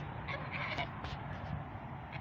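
Faint honking calls from a few domestic geese grazing at a distance, scattered over a steady outdoor background hum.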